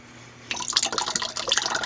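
Salt water from silver-plate stripping is poured off a jar, starting after a brief quiet moment as a close, trickling splash with irregular drips and gurgles.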